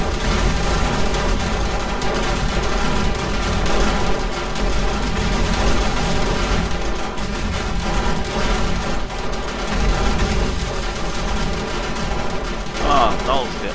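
Dense, sustained enemy gunfire in a Borderlands Horde Night match, a steady barrage of overlapping shots and bursts with booming hits running throughout, a voice occasionally talking underneath.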